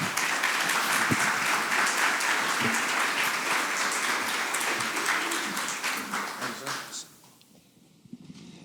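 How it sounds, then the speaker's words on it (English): Sustained audience applause at a fundraising event, a steady wash of many hands clapping that fades out toward the end, leaving quieter room sound. "let's give Steve Spinner a round of applause"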